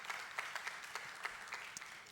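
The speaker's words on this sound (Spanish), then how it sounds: "Un aplauso al Señor poderoso." A church congregation applauds during a Spanish-language service, with individual sharp claps standing out against a softer spread of hands clapping.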